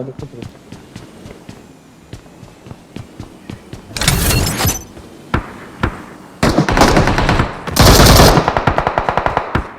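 A video game firefight bursts with rapid automatic gunfire. Scattered single shots give way to two long, loud volleys, and voices talk over the action.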